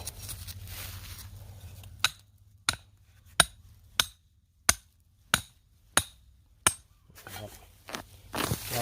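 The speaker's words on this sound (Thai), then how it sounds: "ตอกเลยนะครับ" About nine sharp hammer blows ring out at an even, steady pace, close by, with quiet shuffling before and after.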